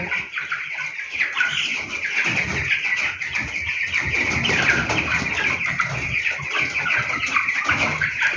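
Broiler chickens cluck and chatter steadily at close range, a busy overlapping flock with no speech.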